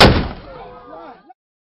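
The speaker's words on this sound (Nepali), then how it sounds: "उनीहरू घर पुगेपछि बन्दुक पड्काइन्छ, जसको अर्थ हुन्छ महिलाहरू घरमा पुगे।" A gun fired in celebration at a Magar house-moving ritual (Rungma) in Nepal gives a single sharp, loud outdoor blast that fades into a ringing echo tail over about a second.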